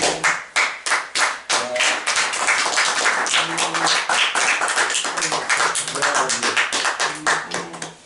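A church congregation claps in a steady, fast rhythm, loud and close, with voices acclaiming and singing along beneath the beat throughout.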